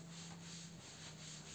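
A board eraser rubbing writing off a classroom board makes a steady, continuous scrubbing sound, close and even, with short back-and-forth strokes and no talking.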